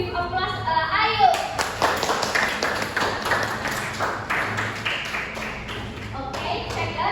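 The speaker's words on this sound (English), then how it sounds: "Give applause, Ayu." Audience applause at a group presentation session, dense clapping building sharply after a short voice and continuing steadily throughout, moderately loud and near.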